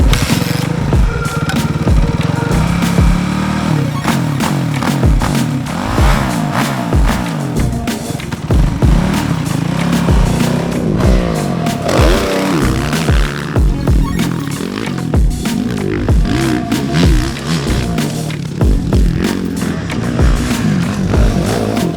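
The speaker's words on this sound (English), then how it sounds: "we are riding Ken Roczen's factory Suzuki HEP RM-Z450 race bike" A factory Suzuki HEP RM-Z450 motocross race bike ridden hard, its engine loud and close throughout, revving up and down continuously with rapid throttle changes and clattering over rough ground.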